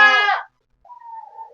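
A goat in a simple village pen gives one short, loud bleat up close, followed by a faint, thin tonal call after a brief pause.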